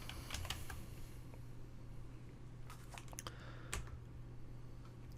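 Keystrokes on a computer keyboard in a couple of quick bursts, fairly faint over a steady low electrical hum, with no talking.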